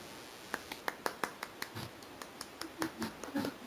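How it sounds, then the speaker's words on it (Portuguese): A single person clapping, sharp separate claps in a loose rhythm that grow softer and more muffled toward the end, heard close and alone without talk. "Estou aplaudindo."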